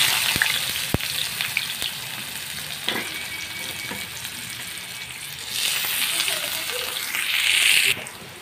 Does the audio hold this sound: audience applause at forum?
no